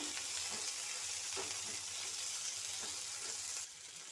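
Dry red chillies with cumin and coriander seeds roast in a pan with a little garlic and ginger, giving a continuous close, even sizzle that drops slightly near the end, with no talking.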